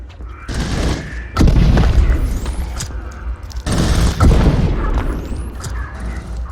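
Gunfire erupts in a VR video game, heard as heavy booming bursts and rapid volleys in two loud surges over a dense, continuous battle rumble.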